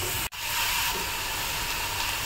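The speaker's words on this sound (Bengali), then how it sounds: "আর এই পর্যায়ে তেলের ভিতরে পেঁয়াজ কুচিগুলো দিয়ে দিব।" Finely chopped onions hitting hot oil in a pan on a medium-low flame for fish-tail bharta, a brief cutout then a loud, bright, steady sizzling hiss that carries on without pause.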